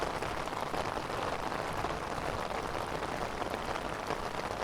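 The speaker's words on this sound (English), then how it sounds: "And now here I'm walking during a magnificent rain." Rain falling on a city street at Long Island City's Court Square in New York, a steady dense hiss of drops spread evenly throughout, continuous and moderately loud with no voices.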